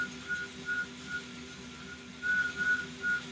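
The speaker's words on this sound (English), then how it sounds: "If you have a trainer at home, you can hear that droning noise" An indoor bike trainer gives a steady mechanical drone that hums continuously, with a higher whining tone that rises in short repeated pulses over it.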